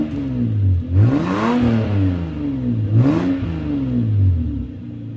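A Toyota Supra MK4 with a welded-up exhaust revs through two smooth, rising and falling engine sweeps, a fairly low, muted drone close by with no talking over it.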